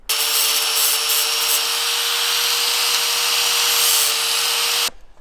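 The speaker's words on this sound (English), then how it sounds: "we're gonna pop holes right in the center of these holes right here with a 3/8 drill bit" A continuous high-pitched power drill whine as a 3/8-inch bit drills holes through truck metal, steady and close, cutting off abruptly near the end.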